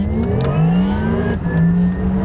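A Porsche Taycan Turbo electric car drives on a road, heard from inside as a loud, steady whine of motor and tyres with a rising electric tone, no talk over it.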